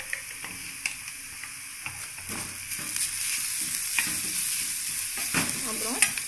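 Onions sauté in a pan with turmeric for masala dosa filling. A soft sizzle builds steadily under repeated light ticks and scrapes of a stirring spoon against the pan, with no voices.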